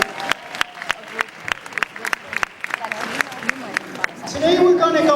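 An indoor audience at a lobbying gathering bursts into applause, starting with scattered, sharp individual claps that thicken into fuller, sustained clapping toward the end.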